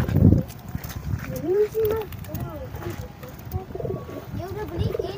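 Pigeons cooing in a Jakarta-style pigeon loft setting, with repeated soft coos and some flutter over outdoor background noise, while people talk nearby.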